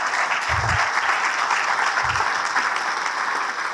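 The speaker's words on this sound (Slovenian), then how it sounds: "Mislim, da si tale zgodba zasluži en velik aplavz." A large audience at a logistics congress opening breaks into loud, sustained applause, a dense even wash of clapping that holds steady throughout with no pauses.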